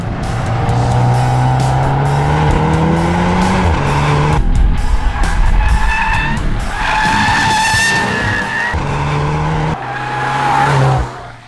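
A 2022 Volkswagen Golf R fitted with an Akrapovic exhaust drives hard on a race circuit: loud engine drone rises and falls through gear changes, with tyres squealing and skidding, close and continuous, with no talk.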